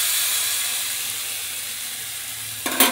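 Chicken marinated with tomato sauce and chopped tomato hisses in a hot kadai with a steady, bright sizzle, then flares into a sharper, louder burst of frying just before the end.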